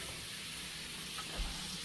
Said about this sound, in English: I'm going to throw in 4 tablespoons of butter.